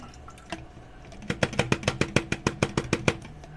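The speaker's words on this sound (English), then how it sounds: "Let's just pour this into our graduated cylinder and let's see how much we've got." 99.9% isopropyl alcohol poured from a container into a graduated cylinder, a quick run of about a dozen evenly spaced glugging splashes after a couple of soft drips, close and clear.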